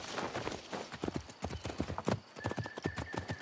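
A horse gallops in Assassin's Creed, in a game scene set in Baghdad: a quick, rhythmic clip-clop of hooves, close and steady, with a brief whinny.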